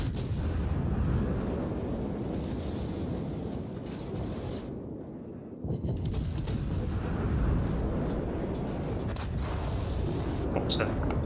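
Heavy naval gunfire from warships in World of Warships, including a Montana battleship, rumbles as a dense, continuous wall of booming salvos and blasts across the whole stretch, with a brief lull in the middle and voices faintly underneath.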